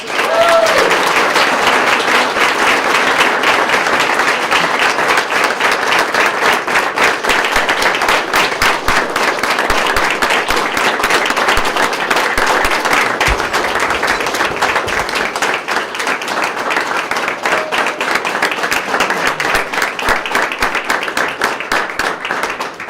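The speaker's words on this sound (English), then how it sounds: "Let's give them all a round of applause." An audience applauds at a Sarasota Police Department swearing-in ceremony, a loud, dense, sustained round of clapping from many hands that fills the room for over twenty seconds.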